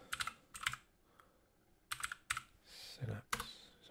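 Keys clatter in short bursts on a computer keyboard as a terminal command for installing Synapse is typed, clusters of quick taps separated by brief pauses, close and clear with no talking.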